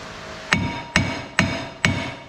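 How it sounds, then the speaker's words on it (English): Four sharp metallic hammer strikes on a rusted front brake rotor of a 2014 Dodge Dart, evenly spaced about half a second apart, each ringing briefly. "get a hammer and just give it a few love taps"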